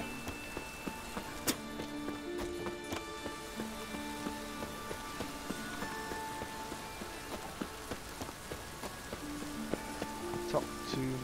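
Steady rain in a video game patters in a constant soft hiss, scattered with sharper drops and faint clicks, fairly quiet and distant.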